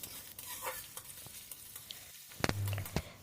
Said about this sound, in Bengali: পেঁয়াজটা একটু নরম করে ভেজে নেব, খুব বেশি ভাজবো না